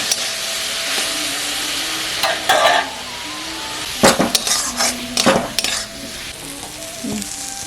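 Spices and meat masala fry in a pan for a chicken and jackfruit curry, a continuous sizzle broken by bursts of a metal spoon stirring and scraping against the pan.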